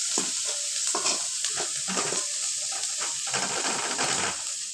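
Green chillies and curry leaves frying in hot oil for semiya kichadi, a steady close sizzle with stirring scrapes and small clinks throughout, no voices.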